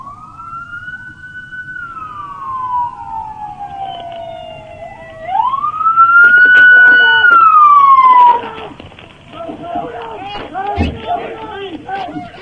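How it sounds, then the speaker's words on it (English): Loud wailing police sirens at a traffic stop sweep up and down in pitch, rising and falling for several seconds, then fading into shorter yelps with street noise. "You can clearly hear those sirens"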